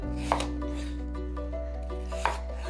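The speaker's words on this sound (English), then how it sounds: "Now just slice them into slightly smaller pieces one more time, and then we'll roughly chop them." A knife cuts through apples on a cutting board, giving two distinct chopping knocks about two seconds apart with faint scraping between them, over a steady background hum and no talk.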